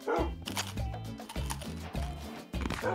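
Tamed wolves in Minecraft barking, a quick run of repeated loud, close, sharp barks in an uneven rhythm, overlapping one another with only brief gaps.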